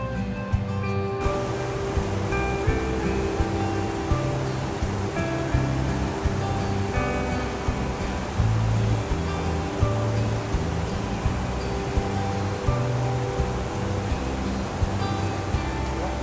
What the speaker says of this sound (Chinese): 尼亚加拉 Fall 其实就是发出雷鸣般声音的瀑布